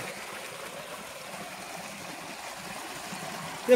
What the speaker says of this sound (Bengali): এই যে পানি পানি নামতিছে দেখান দি